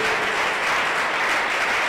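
Dense, steady clapping from a large crowd fills the whole moment, loud and continuous without a break.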